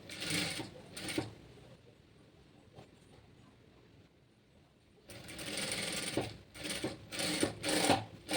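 A sewing machine stitches a shimmy garment in a tailoring class. It runs in two bursts: a short clattering run at the start, a quiet pause, then a longer run of fast stitching.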